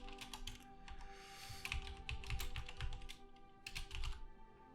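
Quick bursts of keystrokes clatter on a computer keyboard during Hearts of Iron IV strategy gameplay, uneven clusters of taps at low volume with no talk.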